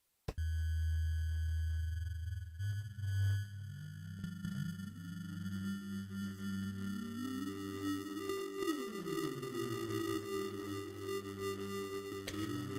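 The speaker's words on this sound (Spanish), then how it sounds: "le quise agregar este color más electrónico con otra capa de ruido que se añadiera a la primera" A layered electronic noise texture for video game music, with steady sine-like tones and swooping pitch glides over a low drone; the sound is continuous, synthetic and futuristic, and no one speaks.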